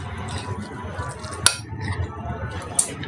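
A spoon clinks against a bowl while soya chunks and cabbage are mixed, with two sharp metallic taps standing out over a soft, steady background hum.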